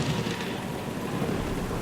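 Rain and thunder effect for a historical skit set in London, November 1759: a steady, full wash of icy downpour with low rumbling thunder beneath, continuous and fairly loud, with wind and no voices.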